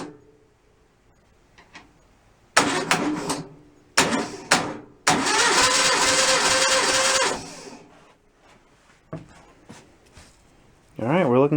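A stock 1600cc VW engine, freshly assembled and complete, cranks in short bursts, then catches and runs loudly for a couple of seconds before dying back to quiet, with another crank at the end.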